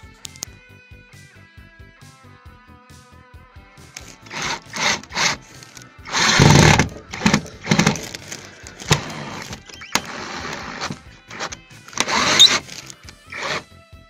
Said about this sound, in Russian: Сейчас попробуем крутить наш саморез